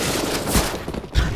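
Video game gunfire crackles in a short burst near the start, then a second volley near the end, loud, with continuous rattling shots and no talk.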